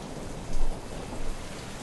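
Heavy, dense rain hisses continuously in the video game Deadlight, with two short swells of rumbling thunder rising out of the downpour.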